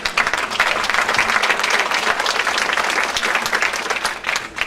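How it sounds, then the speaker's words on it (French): A courtroom audience applauds as a witness is called to the stand, a dense, steady wash of many hands clapping close by that holds for the whole stretch with no break. "Applaudissez-la."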